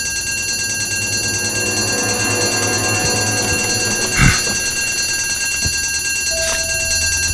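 In the horror video game Death Park 2, a fire alarm rings with steady electronic tones, joined midway by a brief loud burst and a short higher beep. No voices are heard.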